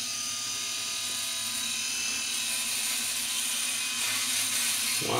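Philips Norelco Shaver 6800 wet-dry electric shaver with circular blades shaving a beard, a steady, fairly loud motor buzz and whine running throughout, with a rougher scraping burst at the end as it moves over stubble.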